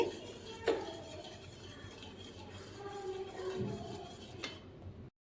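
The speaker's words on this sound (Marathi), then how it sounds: "त्यासाठी आपल्याला हे छान असं ढवळून घ्यायचं आहे" A spoon stirs fruit custard mixture in a pan, giving soft scraping and occasional light clinks of utensil against metal, fairly quiet and steady with a brief knock near the start.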